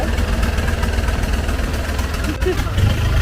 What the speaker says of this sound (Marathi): आपण आता बोटमध्ये बसलेलो आहोत आता आपण मार्केटला ते बोट चालत